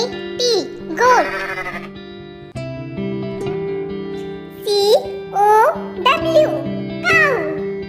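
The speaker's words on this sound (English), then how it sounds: "Goat, goat." A domestic farm goat bleats several times, its wavering cries clear and close, spread over a steady droning musical background.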